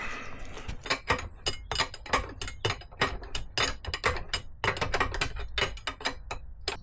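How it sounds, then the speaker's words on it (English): A spanner tightens the top nut of an Audi A1 shock absorber clamped in a vise, a dense run of sharp, close metallic clicks and ticks in steady rapid rhythm, with no talking. "I'm going to put that in the vise and do it up with a spanner."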